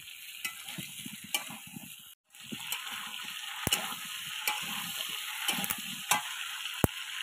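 Eggplant pieces go into a pan of frying potatoes, giving a steady sizzle broken by sharp clicks and scraping knocks of a utensil against the pan, close and fairly loud, with no talk.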